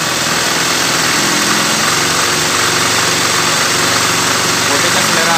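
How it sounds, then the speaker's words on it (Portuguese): A Honda CG 150 Titan motorcycle engine runs loudly and close by, holding a fast, buzzing, steady note, with someone talking over it. "Olha a rotação do motor."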